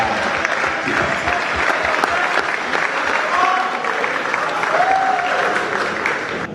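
An audience at a film presentation applauds steadily in tribute to a late figure, dense clapping loud and unbroken from start to finish, with faint tonal sounds briefly rising above it.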